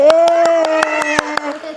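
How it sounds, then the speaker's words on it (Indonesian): Children in a classroom clapping hands in a steady rhythm, about nine sharp claps, close and loud, over a sustained sung or chanted voice. "tepuk tangan teman-teman"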